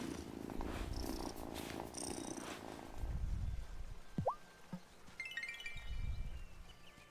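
A cat in the video game Wylde Flowers purrs in soft, rhythmic low rumbles, fairly close and quiet, joined by a couple of faint chirping game sounds with no talking.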